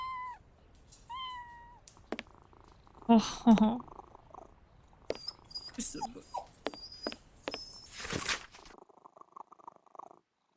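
A cat in a video game meows in short rising calls and purrs, mixed with other game sound effects and chimes, while a voice speaks briefly.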